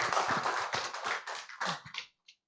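Applause from a training-day audience for a speaker rises from a short, fairly close round of hand claps and thins out to a few scattered final claps.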